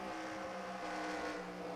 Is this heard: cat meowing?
no